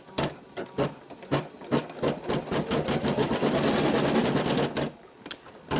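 An embroidery machine stitches a monogram onto a napkin with a rapid, mechanical chattering rhythm, running in short bursts at first and then continuously for a couple of seconds before stopping, close and fairly loud.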